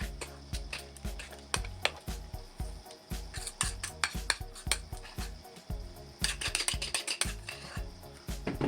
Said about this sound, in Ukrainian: Далі форму виливаємо наше тісто і рівномірно розподіляємо по формі.